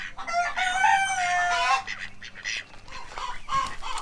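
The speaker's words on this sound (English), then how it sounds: "you a weird looking chicken" A chicken at a farm barn nursery gives a loud, drawn-out crow followed by a few shorter clucks and squawks, close to the listener.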